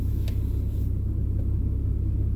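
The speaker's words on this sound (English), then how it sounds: "The car is running, by the way." A car engine idles nearby, a steady low rumbling drone that stays even and unchanging throughout, with no talking over it.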